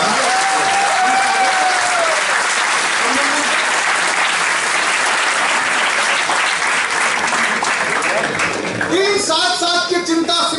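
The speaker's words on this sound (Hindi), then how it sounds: "डिप्टी मेयर साहब, एक बार जोरदार तालियां बजाइए।" A crowd at a public gathering applauds loudly and continuously for the deputy mayor, with dense, sustained clapping throughout and a few voices rising near the end.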